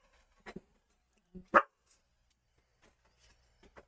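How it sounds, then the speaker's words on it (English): A dog barks excitedly indoors in a few short, sharp, scattered barks of moderate loudness, with quiet gaps between them. "Oh, the dog's all going crazy."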